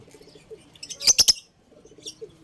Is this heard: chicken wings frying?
no